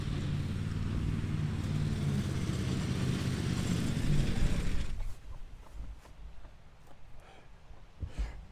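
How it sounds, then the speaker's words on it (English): A ride-on lawn mower engine runs with a steady, fairly loud drone for about five seconds, then cuts out suddenly as it stalls, leaving quiet outdoor background with faint scattered noises. "she's got home and jumped straight on the ride-on mower"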